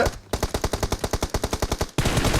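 An M416 assault rifle fires in a video game, a rapid, evenly spaced automatic burst of loud close shots lasting over a second, followed by a dense noisy wash of sound.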